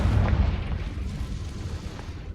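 A Confringo blasting spell in Hogwarts Legacy, a deep rumbling boom that swells at the start and rolls off into a long low roar, loud and close, with no talk over it.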